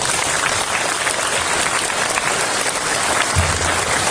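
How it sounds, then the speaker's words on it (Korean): Applause from a ceremony audience at a school-support agreement signing, steady dense clapping filling the whole stretch at even loudness, with no voices over it. "다시 한번 큰 박수 부탁드립니다"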